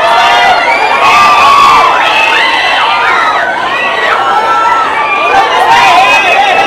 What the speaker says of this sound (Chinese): Jamie Campbell-Bauer 一出场，引尖叫不断